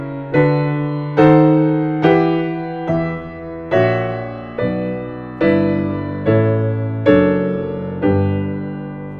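Solo piano chords sound in an improvised prelude, descending as a dissonant cascade of struck, ringing harmonies, about ten chords at a slow, even pace, close and unaccompanied.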